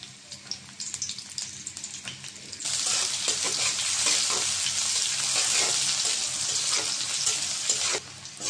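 Chopped onions hit hot oil in a kadai and break into a loud, steady sizzle. Quieter kitchen clatter comes before the burst of frying, which then holds evenly close by.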